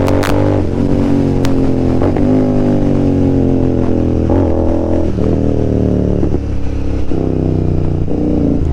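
A motorcycle accelerating hard on an open stretch of road, loud close engine roar climbing through several gear changes with brief dips between revs, alone without talk.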